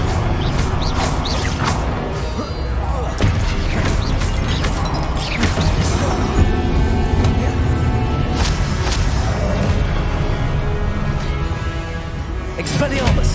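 Spell blasts and impacts from Hogwarts Legacy gameplay, a fiery Confringo explosion among crashes and whooshes, with a player's voice shouting spell names over continuous dense battle effects.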